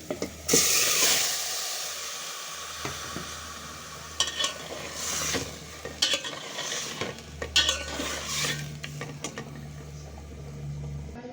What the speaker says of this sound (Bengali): এখন আমি ম্যারিনেট করে রাখা মাংসটা দিয়ে দিচ্ছি।